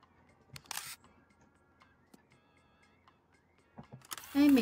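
In the video game Toem, a camera shutter fires for a selfie, producing a couple of short, crisp clicks over near silence, with a louder tonal chime at the very end.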